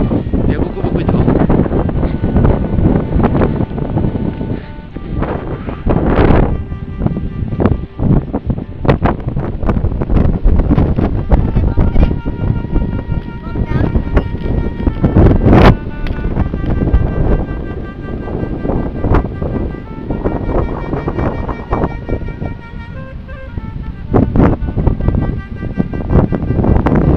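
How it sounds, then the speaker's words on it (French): Strong, gusty wind buffets the microphone continuously on the climb to a mountain pass during a trail-run reconnaissance, with a roaring rumble throughout and a voice talking over it at times. "il y a énormément de vent"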